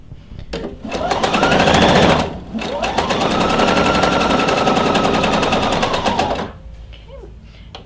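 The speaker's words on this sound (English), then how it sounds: "what I'm going to do is just go ahead and stitch down this entire section of fabric" A sewing machine fitted with a gathering foot stitches fabric in two loud, close, rapid mechanical runs, a short one and then a longer sustained burst, with quieter handling sounds before and after.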